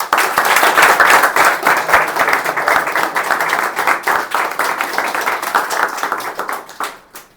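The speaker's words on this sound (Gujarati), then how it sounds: "અજીત ભાઈ તાળી પાડો યાર." At a 15 August speech contest, an audience claps for the winner in a loud, dense burst of applause from many hands close by, holding steady for several seconds before thinning and stopping.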